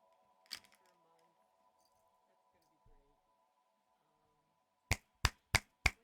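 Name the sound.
finger snapping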